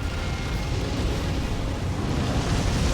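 A creature breathes fire in the Elden Ring Shadow of the Erdtree video game, making a loud, continuous roaring whoosh of flame that fills the whole moment with no voices.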